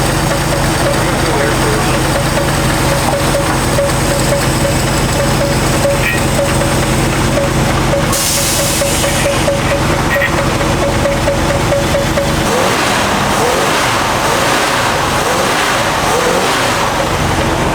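The matching-numbers engine of a 1970 Cuda runs loud and close, a steady rumbling idle that shifts partway through, with people talking over it.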